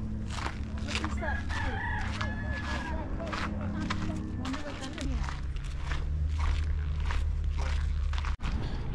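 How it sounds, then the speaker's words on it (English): Rooster crowing amid clucking chickens on a farm in the Bahamas, with several crows over a busy outdoor background, footsteps and people talking throughout. "You can see chickens everywhere."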